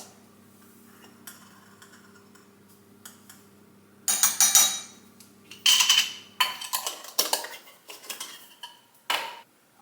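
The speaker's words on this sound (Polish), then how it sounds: "Maczę mieszam moim mieszadełkiem" A small whisk stirs matcha in a bowl: bursts of rapid scraping and clinking start midway and come in short uneven rounds, close and fairly loud, after a quiet stretch with faint ticks.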